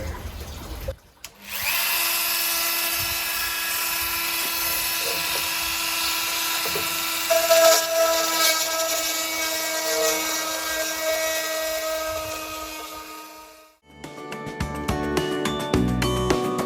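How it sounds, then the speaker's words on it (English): A power drill bores a hole into a homemade walking stick, a loud, steady high whine running unbroken for about twelve seconds before cutting out, followed by some brief handling clatter. "I've got to drill that out."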